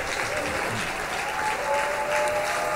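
A church congregation at a Sunday service applauds, a dense, even burst of clapping throughout.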